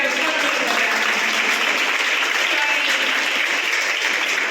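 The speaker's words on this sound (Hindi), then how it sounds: "ताली बजा के" Steady applause from a church congregation, dense and sustained throughout, moderately loud and close with no pauses.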